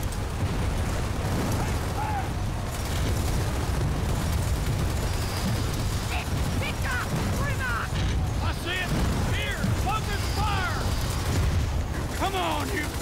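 Frag grenades going off in Gears of War 4's campaign on Insane difficulty: deep booming blasts keep rolling under a dense, busy battle mix, with voices and higher chirping effects popping up throughout.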